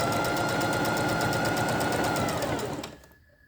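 A mechanical sewing machine stitches the fourth step of a buttonhole, a loud, close, rapid rhythmic whirring and clatter that runs steadily and then winds down and stops near the end.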